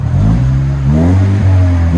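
A 2016 Lexus IS 200t with a 2.0L turbo engine and muffler delete revs loudly and up close, its deep exhaust drone climbing in pitch midway and then settling back.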